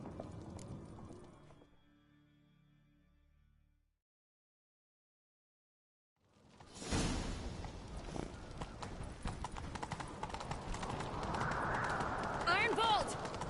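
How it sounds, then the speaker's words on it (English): Horse hooves clip-clop at a gallop in The Witcher 3 video game, loud and steady from about seven seconds on, after a quiet gap that follows earlier talk. "Grab a horse, we'll chase him down."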